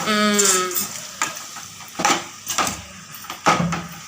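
Marinated ingredients sauté in a pan, with a soft sizzle under close, scattered clinks and scrapes of stirring, after a brief tonal sound at the very start.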